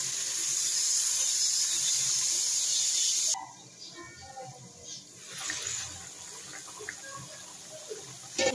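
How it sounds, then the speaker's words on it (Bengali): Hot water poured into a pot of frying potato curry: a loud hissing, rushing sizzle for a few seconds, then dropping to softer bubbling and spattering with occasional clinks. "গরম পানি দিয়ে দিচ্ছি।"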